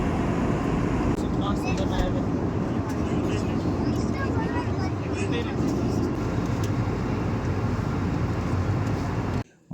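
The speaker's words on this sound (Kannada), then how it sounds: "ಮೋಡಗಳಿಗೂ ಮೇಲೆ ನೀಲಾಕಾಶದ ಕೆಳಗಡೆ ನಮ್ಮ ವಿಮಾನ ಹಾರಾಡ್ತಾ ಇದೆ ನೋಡಿ" Constant loud airplane cabin roar of a passenger flight cruising above the clouds, a steady broadband drone throughout, with a voice speaking over it before it cuts off abruptly.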